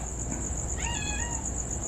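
A stray cat gives a single wavering meow near the microphone, set against a steady outdoor hum and a high insect-like whine, with no talking.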